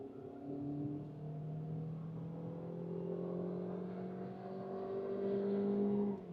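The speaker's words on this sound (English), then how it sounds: "And now full pedal to the metal." Maruti Suzuki Victoris AllGrip automatic accelerating hard at full throttle on a highway merge, its engine note climbing steadily in pitch for several seconds, loud and continuous from inside the cabin with no talking.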